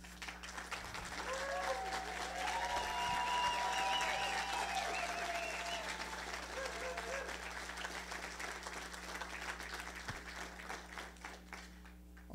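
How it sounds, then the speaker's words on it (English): Audience applause for storytellers at a Big Read storytelling event in Wichita, a steady wash of clapping from a roomful of people that holds for several seconds before thinning out, with voices mixed in throughout. "ask all the storytellers to stand up so we can clap for them"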